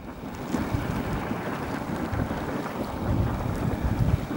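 Steady hissing steam and bubbling water at a geyser basin in Yellowstone National Park form a continuous, fairly loud rushing wash that swells slightly toward the end, with no speech.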